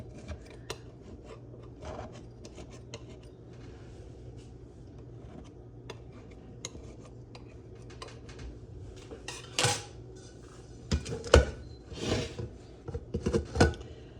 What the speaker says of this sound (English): try sliding a knife down a little bit to make sure that it is loosened up, hopefully, and around the ring